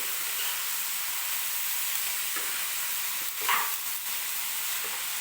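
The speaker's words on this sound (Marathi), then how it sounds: "ज्यावेळेस आपण कोबी कढईत टाकला" Soft, steady sizzling of cabbage stir-frying in a wok, with a brief louder hiss and scrape partway through.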